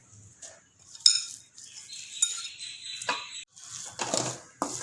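Chicken and mashed potato for cutlets are stirred together in a pan over low flame, making close, irregular scrapes and metallic clinks of a spoon against the pan in short bursts.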